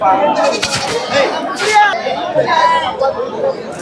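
Sheep bleat at a livestock market in Ranipet, among the chatter of a busy crowd, with several voices talking nearby over the animal calls.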